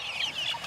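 Young chickens in a farm pen cluck in quick, overlapping bursts, close and fairly loud, with no talking over them.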